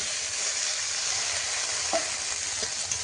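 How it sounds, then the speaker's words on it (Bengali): Leafy greens with garlic and black cumin are stirred and sizzle steadily in a wok over a wood fire, a continuous close frying hiss with a few soft scrapes of the spoon and no talk. "দেখো এবার নেড়ে চেড়ে জল দিয়ে দেবো"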